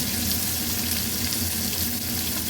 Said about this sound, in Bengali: সামান্য পরিমাণ হলুদ আর সামান্য পরিমাণ লবণ দিয়ে আলু আর বরবটিগুলো ভালো করে ভেজে নেব